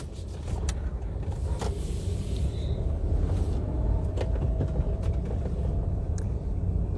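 A manual car rolls slowly through a residential complex, a steady low engine and road rumble from inside the cabin with a few faint clicks and knocks.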